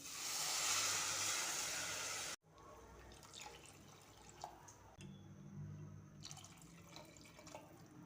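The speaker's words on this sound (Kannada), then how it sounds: "3 ಬೌಲ್ ಆಗೋಷ್ಟು ನೀರು ಹಾಕ್ತಾಯಿದ್ದೀನಿ" Water pours steadily into a cooking pan for a couple of seconds, a loud rushing splash, then stops abruptly and leaves quieter kitchen clatter and faint sizzling while semolina chow chow bath is prepared.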